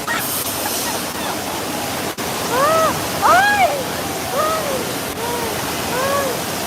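Water gushes with a loud, steady roar on the Universal Studios Earthquake ride while riders shout and scream over it.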